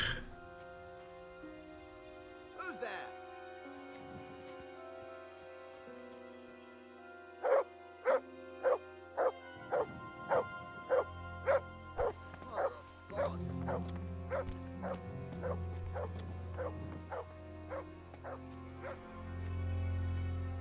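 A dog in the medieval video game Kingdom Come Deliverance barks in a rapid string of sharp, evenly spaced barks, with game ambience and music around it and no talk.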